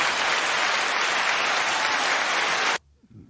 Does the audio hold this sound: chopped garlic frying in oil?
no